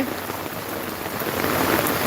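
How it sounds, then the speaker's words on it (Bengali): Heavy rain falls steadily at a plant nursery, a dense, even wash of close drops hitting surfaces, with no voices and slightly louder toward the end. "বৃষ্টির মাত্রা আসলে বেড়ে যাচ্ছে"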